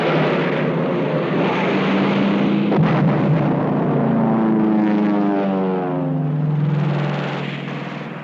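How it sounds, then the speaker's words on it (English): American fighter planes of 1944 roar overhead in a loud, continuous propeller drone that swells and shifts in pitch as they pass, with no voices. "70 American fighter planes"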